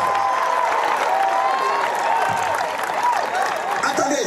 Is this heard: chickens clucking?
no